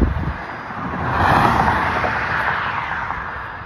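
Cars and trucks pass on a road, a steady broad roar of traffic with wind buffeting the microphone, swelling briefly as a vehicle goes by close, then settling back to a continuous rumble.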